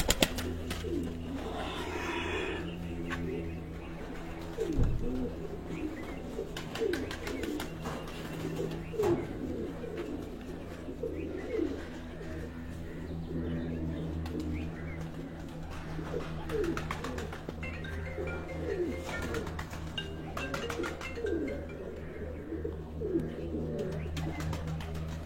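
Pigeons at a loft give soft, low cooing, repeated continuously over a faint background hum with no voices.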